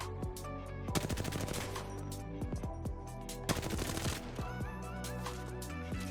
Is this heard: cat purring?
no